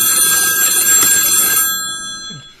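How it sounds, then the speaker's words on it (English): A mobile phone rings with a bright, electronic tone that holds for over a second and a half and then fades, with no speech over it. "Something is ringing. And something is vibrating in your pocket."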